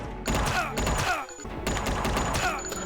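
Gunfire in the retro-styled video game UnMetal, a dense rattling fusillade of shots with mechanical clatter, loud and continuous with a brief dip midway, no speech over it.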